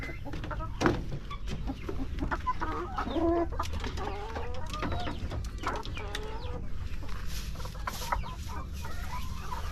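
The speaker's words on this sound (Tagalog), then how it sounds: "Dito na tayo sa aking mga decal brown na nangingitlog." Dekalb Brown laying hens cluck and murmur close by in an irregular, overlapping chatter, with a few sharper calls standing out over a low barnyard background.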